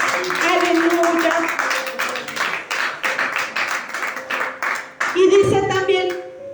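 A church congregation bursts into clapping for God during a Spanish-language service, rhythmic hand claps filling the room, and a preacher's voice rises over it near the end.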